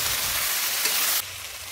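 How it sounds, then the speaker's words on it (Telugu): Chopped ivy gourd fries in a pan with a steady, close hiss and sizzle that drops slightly in loudness near the end. "ఇది ఒక 20 minutes ఫ్రై చేసుకోండి బాగా."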